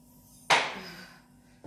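Milk poured from a glass into a bowl of pancake batter made with flour, oil and salt, a sudden close splash that fades over about a second, with a second pour beginning at the end.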